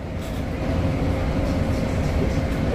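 A metro train ride: a steady, dense rumble of the carriage rolling along the rails fills the whole stretch without a break, and no one speaks.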